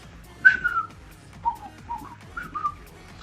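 A person whistles a tune from Monty Python's Life of Brian, a few short melodic phrases, close and fairly loud, with no talking.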